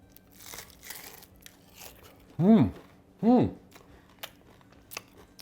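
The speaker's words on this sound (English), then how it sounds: "I think that you can hear the crunch" Crunch of biting into a crispy spicy Korean fried chicken wing, two loud close bursts about a second apart with faint chewing crackles scattered around them.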